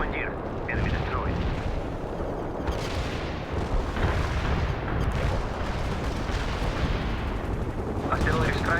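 Continuous rumbling artillery barrage in the World in Conflict strategy game, a dense, steady roll of distant blasts and gunfire with occasional brief radio-style voice chatter over it.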